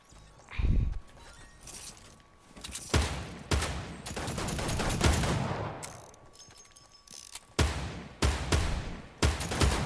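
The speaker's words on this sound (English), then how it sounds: "That's just to tell you I'm practice shooting." Practice shooting in Fortnite, sharp close gunshots fired in irregular single shots and quick clusters with brief quiet gaps between, no talking.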